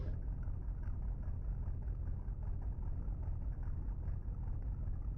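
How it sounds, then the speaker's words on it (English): Race car engine from a sim racing cup series game drones steadily at a constant pitch, low and continuous, alone without talk. "We're going to give you a little bit more car noise."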